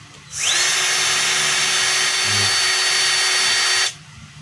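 A DeWalt DCE100 cordless blower whirs up and runs steadily at a high pitch, close and loud, with a faint rattle partway through, then cuts off.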